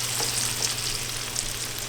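Shrimp fry in a little melted butter in a pan, a constant close crackle and sizzle with faint spitting pops and a low hum underneath, no one speaking.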